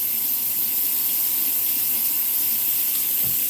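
Water runs steadily from a faucet spout, a continuous close hiss and splash with no break and no voices.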